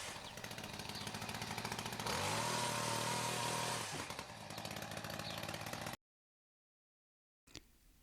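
A Webb WEHC600 petrol hedge trimmer engine runs loud and close with a harsh, buzzing two-stroke drone, rising in intensity midway, then cutting to silence before a brief faint noise.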